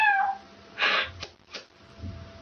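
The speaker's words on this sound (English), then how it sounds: "Cat." A cat meows clearly and close by, one main drawn-out meow followed by a couple of softer, shorter vocal sounds.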